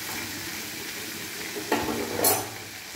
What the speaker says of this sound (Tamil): அந்த பீர்க்கங்காய் பச்சை வாசனை போடுற வரைக்கும் நம்ம இதை பீர்க்கங்காய் நல்லா வதக்கணுங்க.